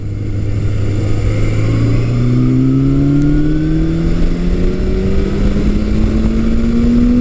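A vintage Suzuki GS motorcycle engine, GS750 or GS1100, revs steadily upward toward 6,000 RPM, its loud, continuous drone rising in pitch throughout with no talk.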